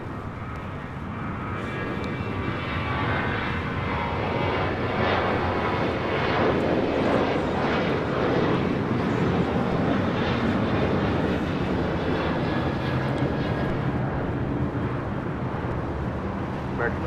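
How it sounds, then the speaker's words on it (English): An American Airlines Boeing 737-800 takes off from LAX runway 25 right, its engine roar building and holding loud and broad for many seconds, with a voice talking over it. "This is American Airlines Flight 2002 taking off to Las Vegas on a 737-800."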